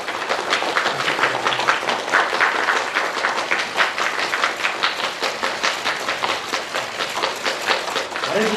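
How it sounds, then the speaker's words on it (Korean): An audience applauds at a Ministry of Environment ceremony appointing a singer as climate change ambassador. Steady, rhythmic massed clapping carries on continuously at moderate loudness. "여러분 큰 박수 부탁드리겠습니다"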